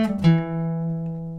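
A short electric guitar riff from a song, a couple of quick plucked notes settling into one sustained ringing note, played alone and close.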